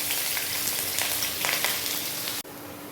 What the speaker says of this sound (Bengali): দেখো পেঁয়াজটা একটু হালকা ভেজে নিয়েছি।